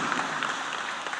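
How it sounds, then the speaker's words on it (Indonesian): Studio audience breaks into applause, a brief dense wash of clapping at moderate level with no voices over it. "Kita tepuk tangan untuk Yanto."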